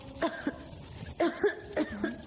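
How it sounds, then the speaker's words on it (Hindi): Several short, raspy coughs come in quick clusters, close by and moderately loud, with brief pauses between the bursts. "तुम्हें तो बहुत खांसी हो रही है।"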